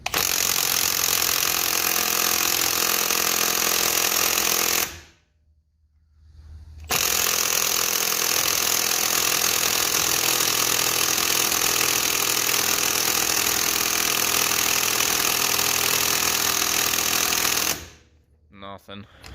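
Milwaukee M12 3/8-inch stubby impact wrench with a 3/4-inch lug nut socket, powered by a knockoff 6.0 battery, hammering loudly on a car lug nut in two long continuous bursts separated by a brief pause.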